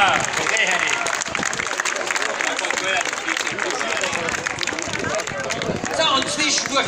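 An outdoor crowd at an Almabtrieb cattle-drive festival in Bad Kleinkirchheim applauds a brass band and its bandleader, with loud, dense clapping mixed with crowd babble and scattered voices throughout.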